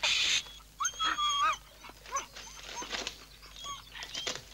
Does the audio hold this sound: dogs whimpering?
yes